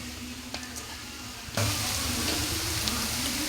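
Egg frying on a pan for kothu parotta: a quiet kitchen with soft clicks gives way to a sudden loud, steady sizzle that continues strongly to the end.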